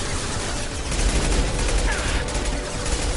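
Sustained rapid gunfire in the Mass Effect 2 Legendary Edition video game, a dense continuous barrage of shots filling the whole stretch, loud and close, with a voice talking over it.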